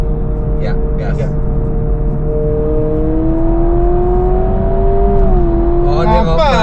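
A Honda Prelude engine pulls steadily in gear with a rising whine and a racy tone, loud and close from inside the car, before a gearshift near the end. Voices are heard faintly.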